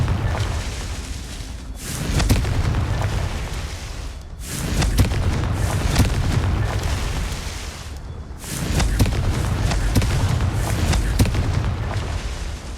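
Confringo fire spell explosions in Hogwarts Legacy, three loud deep booming blasts each rolling on for several seconds, separated by brief near-silent gaps, heard alone.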